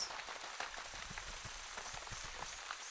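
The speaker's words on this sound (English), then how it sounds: "this whole section is like the sound of rain" Rain falls in the video game Wytchwood as a steady, soft patter of droplets with scattered light taps, quiet and continuous with no voices over it.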